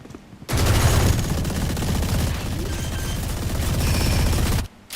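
Sustained, dense gunfire from the shooter game Valorant fills the whole stretch, rapid overlapping shots and bursts rattling continuously at high loudness, with no talk over it.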